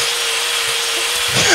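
Screwdriver drilling in the Hand Simulator video game: a steady, harsh mechanical whirr that runs for about a second and a half, swelling slightly louder at the end.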